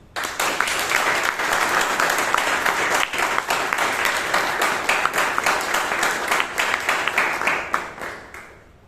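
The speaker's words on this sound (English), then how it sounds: "A much bigger round of applause to our general evaluator and to the entire team of evaluators and road takers, please." A room of Toastmasters club members giving a big round of applause, many hands clapping loud and steady for several seconds before tapering off at the end.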